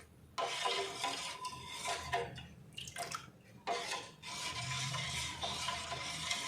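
Sattu flour porridge stirred in a bowl over a low flame, with repeated wet scraping and sloshing strokes and occasional utensil clinks against the bowl, close and fairly quiet.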